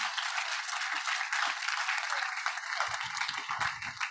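Steady applause from a conference audience at a wildlife conservation photography keynote, dense clapping filling the whole stretch with a few louder individual claps near the end.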